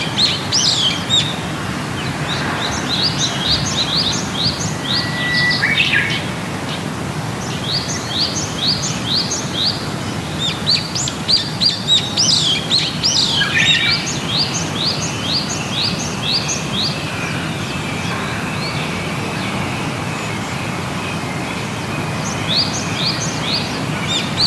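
Many birds chirp and call in repeated quick trills over a steady background of insects and ambient noise across the mangrove lagoons and marshes of Bigi Pan, with overlapping calls from near and farther off.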